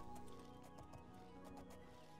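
Horse hooves clip-clopping at a gallop in the fantasy game Oblivion, a steady rapid beat under a dense layer of game music and ambience, with a brief whinny-like tone.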